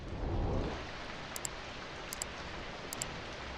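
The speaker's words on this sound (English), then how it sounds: "you can make the rain more aggressive if you wanted to" Steady rainfall hiss from The Sims build mode, with a soft rumble early on and a few faint high chirps on top, no voices.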